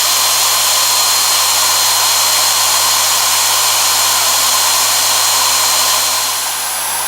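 A Bosch GFK 600 spindle runs free with no load, a steady close whirring whine with an even hum underneath, holding constant before easing off slightly at the end.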